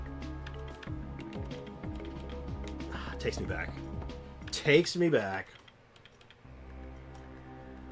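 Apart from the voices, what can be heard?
keyboard typing sound effect in a video game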